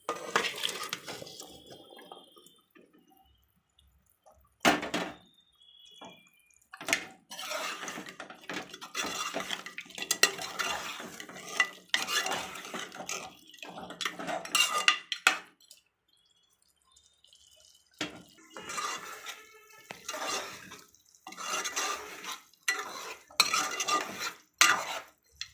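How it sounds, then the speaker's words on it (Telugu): Boiled beef goes into tomato gravy in a cooking pan and is stirred, with repeated scraping and clinking of a spoon against the metal in short bursts separated by pauses. "బాయిల్ చేసిన మటన్ వేద్దాం"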